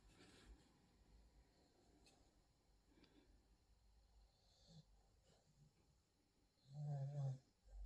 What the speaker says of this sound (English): Now the dog is snoring.